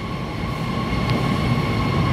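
A train pulls away from Bant Road station in Pakistan, producing a loud, steady rumble of wheels and carriages close by, with no voices.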